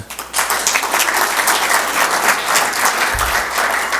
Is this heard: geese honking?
no